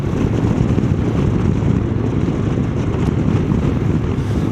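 Steady, loud wind roar buffets the microphone while riding a Honda NX 500 motorcycle, a dense continuous rush with no pauses and no speech.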